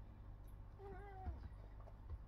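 A pet cat gives a single soft, rising-and-falling meow indoors, faint against a low background hum, with no talking.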